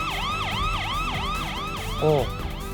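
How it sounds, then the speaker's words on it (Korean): An ambulance siren wails, sweeping up and down in steady repeated cycles as it arrives at a university hospital emergency room, loud and close, over low traffic rumble, with a brief tonal honk near the end. "앰뷸런스."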